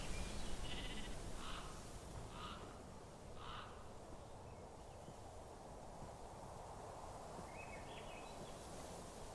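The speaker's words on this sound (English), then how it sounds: "Come on, Mr. Sheepy." A Minecraft sheep gives several short, faint bleats early on over a dense, steady rustling ambience, with one more bleat near the end.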